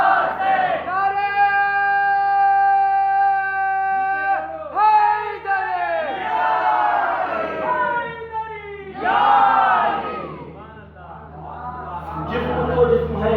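A crowd at a Muharram majlis gathering in Chhattisgarh raises loud chanted slogans in unison, sustained voices rising and falling in repeated waves over a steady low hum.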